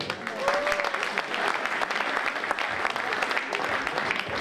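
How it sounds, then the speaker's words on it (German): An audience at a women's épée fencing World Cup in Leipzig claps steadily, a dense, even wash of applause filling the hall, with a faint voice briefly audible near the start. "Ihr Applaus, meine Damen und Herren."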